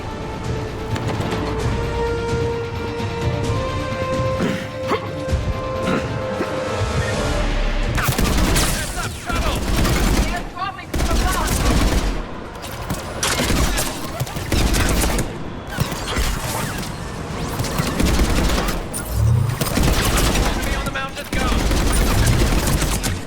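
Combat in Mass Effect 3 brings heavy, dense gunfire: rapid bursts and booming shots in loud, repeated volleys that keep going almost without a break through a chaotic firefight, with no voices rising above the noise.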